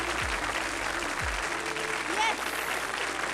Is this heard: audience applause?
yes